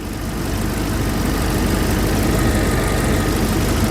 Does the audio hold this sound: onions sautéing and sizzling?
no